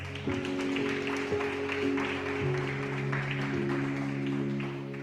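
A church congregation applauding during a worship service, a steady wash of clapping mixed with sustained music tones underneath.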